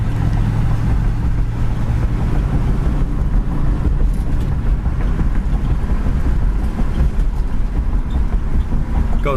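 A 1968 Mustang cruises steadily in fourth gear, its low engine rumble continuous and loud throughout, with wind rushing over the microphone.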